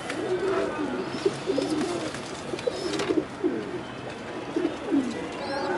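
Domestic pigeons coo in soft, repeated throaty phrases, close by, over a steady hiss of background noise in a loft.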